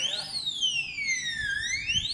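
Smart safe anti-theft alarm, an electronic siren sweeping up and down in pitch with a clear, loud tone over faint background noise, heard close up.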